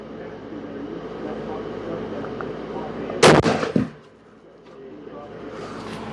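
A single loud .270 rifle shot firing a 130 grain bullet cracks out close by over outdoor background noise, then fades into a brief echo and near silence.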